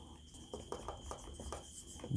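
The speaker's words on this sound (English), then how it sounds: "you can just write it down" A pen scratches across paper in short, irregular strokes, close and fairly quiet, with no talking over it.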